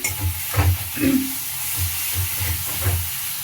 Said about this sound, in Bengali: ধনে গুঁড়ো দিচ্ছি। মশলা কষানো হচ্ছে।